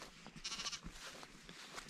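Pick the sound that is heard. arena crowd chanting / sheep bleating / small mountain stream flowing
sheep bleating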